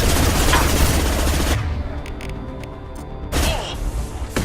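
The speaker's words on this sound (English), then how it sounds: "Firing an impact shot!" Heavy gunfire bursts in Mass Effect 2 as an impact shot is fired, a loud dense barrage that drops away midway, then a second loud burst returns near the end.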